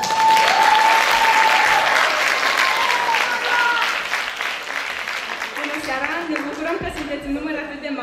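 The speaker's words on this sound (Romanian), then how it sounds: "Haideți să le primim cu aplauze!" Audience applause at a youth festival in Șimleu Silvaniei, a loud burst of clapping that thins out after a few seconds as voices take over.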